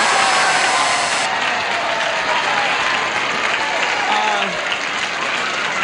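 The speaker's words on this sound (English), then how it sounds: "the people who are applauding are not the winners." A 1970s television game-show studio audience applauds loudly and continuously, dense clapping filling the room for several seconds, with a crowd murmur underneath.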